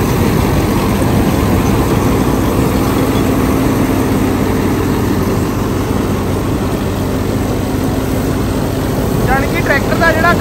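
A loud Indofarm 3065 DI tractor engine drives a star reaper, a steady low heavy rumble running the whole time with no letup. Mechanical clatter from the field work sits over the engine drone.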